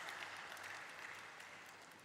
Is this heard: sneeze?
no